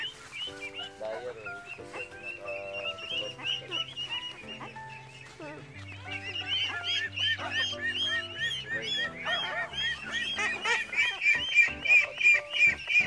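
A flock of Itik Pinas ducks quacks and honks continuously nearby, calls rising in density toward the end, with a low engine-like hum and people talking underneath.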